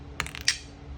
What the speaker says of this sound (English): I'm going to do a couple Astro dice rolls here